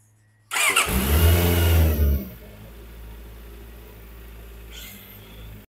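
A Benda LFC 700 Pro inline four-cylinder 700cc motorcycle engine fires up and revs loudly for about two seconds, then drops back to a low, steady idle.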